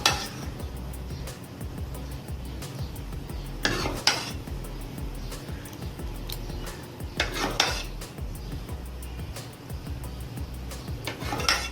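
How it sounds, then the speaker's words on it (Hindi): Mango custard poured over a dish and stirred, with a steady scraping of a spoon against the dish, a few sharper clinks, and a constant background hiss. No one speaks. "अब फिर मैंगो कस्टर्ड इसके ऊपर डालना है।"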